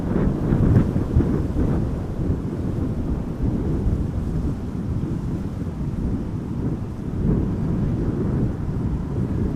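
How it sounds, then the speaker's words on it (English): Jet airliner reverse thrust at Amsterdam Schiphol Airport, a deep continuous roar blended with heavy wind rumble buffeting the microphone, steady and fairly loud throughout. "Hopefully you guys can also hear the reverse thrust being applied over the rumbling of the wind."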